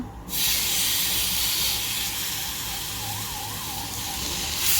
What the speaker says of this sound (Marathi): आता आपला तवा तापलेला आहे आणि आता आपण हा जो आहे एक एक पीस आपण याच्यामध्ये घालणार आहोत